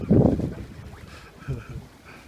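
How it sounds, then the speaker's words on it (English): Wind gusts on board a sailboat under sail with engines off, a brief loud buffet of wind noise that settles into a softer rushing with light water sounds. "Hey, enjoy the wind."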